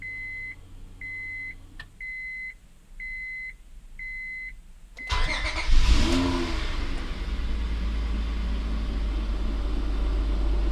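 A steady electronic beeping pulses for a few seconds, then a 2002 Honda Odyssey minivan engine cranks and starts at about five seconds, settling into a loud, continuous idle rumble.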